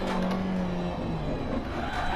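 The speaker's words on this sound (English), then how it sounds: "Locks up the rear." A Lancia Delta Evo 2 rally car in DiRT Rally on tarmac brakes hard with the rear wheels locking, a brief tonal tyre squeal over a low engine drone, fairly faint.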